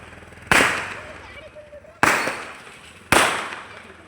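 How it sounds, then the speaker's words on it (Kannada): Three Diwali firecrackers burst one after another at a village home, each a loud, sharp bang followed by a short decaying echo. Faint background noise fills the gaps between blasts. "ಪಟಾಕಿ ಸೌಂಡ್ ಒಂದು ಕಡೆ ಆದರೆ ಕಾರ್ ಸೌಂಡ್ ಒಂದು ಕಡೆ"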